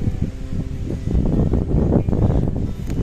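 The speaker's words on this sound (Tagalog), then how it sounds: "Oh, sobrang lakas sa hangin talaga, oh." Strong typhoon wind roars and buffets the microphone in gusts, with rustling underneath throughout; no voices are heard.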